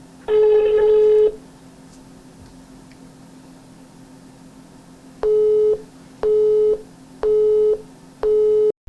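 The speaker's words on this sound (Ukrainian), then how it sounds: "Телефонуємо на номер лісника Близнюківського зівського лісництва." A telephone call to a local forester: a long electronic tone sounds first, then after a pause four evenly spaced beeping tones repeat in a steady rhythm over a low background hum.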